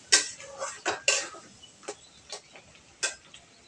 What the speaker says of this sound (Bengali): লবণ দিয়ে একটু নাড়াচাড়া করে নেব।